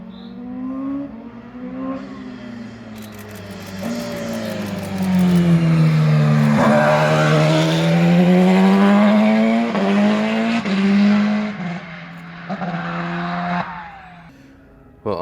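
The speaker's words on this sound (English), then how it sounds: "Eventually, the 919 Evo entered the track and did a warm-up lap." A Porsche 919 Evo race car on its warm-up lap at the Nürburgring, its engine note rising and falling as it passes and revs, loud and fairly close, with faint tire squeal and no talk over it.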